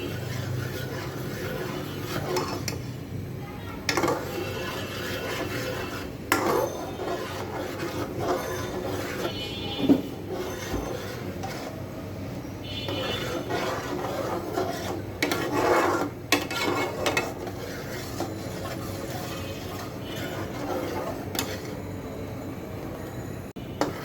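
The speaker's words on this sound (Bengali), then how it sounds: "আমি কিন্তু চার কিনারটা এমনভাবে নেড়ে ছেড়ে নিচ্ছি যাতে করে কোনোভাবে পুড়ে না যায়" Pineapple jelly being stirred around the edges of a pan, a continuous rasping scrape of spoon on metal with recurring louder strokes, close and steady, with no one talking.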